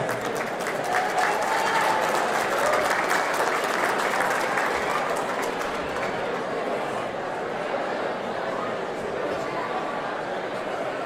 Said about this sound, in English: Give a round of applause for Senator Bill DeStep.